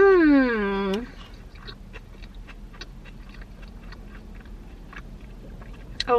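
A bite of a patty melt topped with onions and jalapenos, dipped in fry sauce, is chewed with soft, faint, irregular wet clicks close up after a brief voice at the start.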